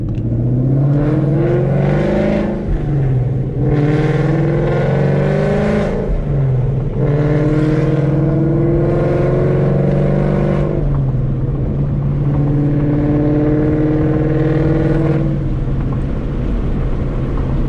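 A car with a ghost cam tune by Lund Racing revs loudly and repeatedly, with a choppy, lumpy idle rumbling between four long, rising and falling engine pulls, close and dominant with no talk.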